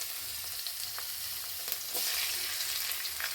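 Cumin seeds, asafoetida and finely chopped garlic fry gently in oil, giving a soft, steady crackling hiss with faint scattered pops and no voices.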